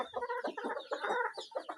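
Brahma chickens clucking close by at a farm, a run of busy, throaty clucks and short calls in quick succession with no talk.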